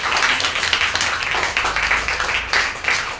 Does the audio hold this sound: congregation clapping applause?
yes